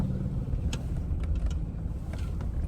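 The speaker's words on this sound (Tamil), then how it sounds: "வண்டி வருது" A motor vehicle, likely a car, approaches along an outdoor road, its engine a steady low rumble that fills the clip at moderate loudness, with faint brief noises above it and no speech.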